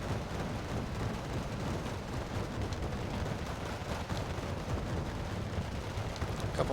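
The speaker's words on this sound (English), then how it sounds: "A lot of tracers firing." Sustained gunfire with tracers in the Wargame Red Dragon video game, a dense continuous rattle of shots and distant rumbling bursts, fairly quiet and steady, no voices.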